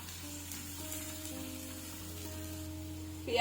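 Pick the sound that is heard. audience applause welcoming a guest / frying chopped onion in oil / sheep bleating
frying chopped onion in oil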